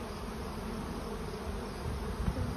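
A dense cloud of honey bees robbing around stacked hive boxes in an apiary yard fills the air with a steady, loud buzzing drone that holds unbroken throughout, with no voices.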